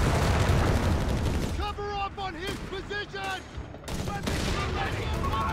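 Rapid .30 cal machine gun fire in Company of Heroes 3 chatters densely and loudly throughout, with a voice briefly talking over the middle stretch.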